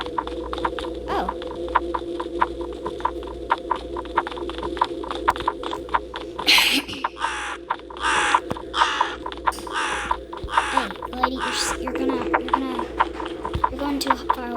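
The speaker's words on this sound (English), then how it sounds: "That's a crow." Crow caws ring out in a scary video game, several harsh calls in a row over a steady droning game ambience, while a person talks and reacts nearby.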